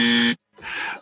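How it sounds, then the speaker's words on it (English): A comedic dummy buzzer sound effect gives a loud, harsh electronic tone. A short pause follows, then a rougher, noisier second blast, both alone and up front. "can we drop the dummy buzzer for this lady, please?"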